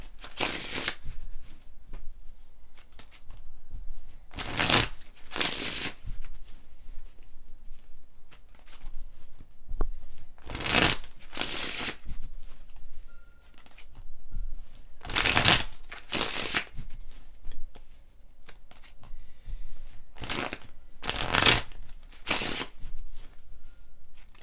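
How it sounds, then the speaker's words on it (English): Tarot cards are shuffled in repeated short, crisp riffling bursts, each a second or so long, separated by quiet pauses, close and fairly clear with no talking. "I just need to shuffle."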